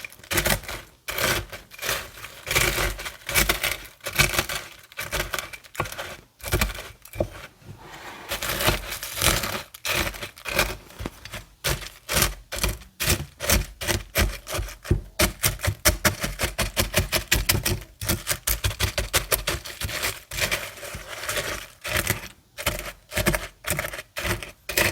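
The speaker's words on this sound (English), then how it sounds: "I'm just going to crush the cereal just a little bit to make it easier to mix" Raisin Bran flakes being crushed in a bowl with flour, giving a steady run of dry, crisp crunching and crackling bursts in quick uneven rhythm, close and fairly loud, with no talk over it.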